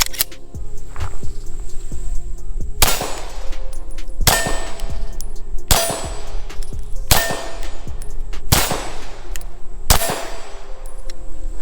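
Hornady Critical Defense rounds fired from a CZ P07 pistol at a range: five sharp, loud shots spaced roughly one to one and a half seconds apart, each with a bright crack and brief ringing decay, no talking.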